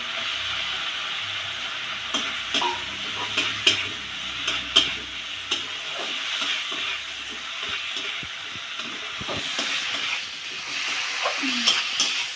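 Fried okra being stirred into sizzling masala in a pan: a continuous close frying hiss broken by repeated scraping stirs and light clatters of the spatula.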